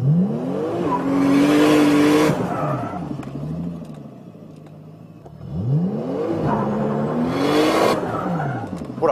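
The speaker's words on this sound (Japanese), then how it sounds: "回転を5000ぐらいまだ上げてですね、クラッチを離すと同時にアクセルを踏み込むとです" A car engine revs hard for an accelerator-turn drift, with loud rising revs and tire noise in two bursts separated by a quieter idle.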